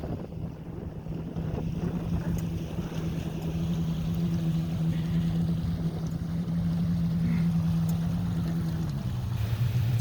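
A powerboat motors across open water toward an island, its engine a steady low drone with a faint tonal hum, mixed with wind buffeting the microphone and water rushing past, continuous and fairly loud throughout.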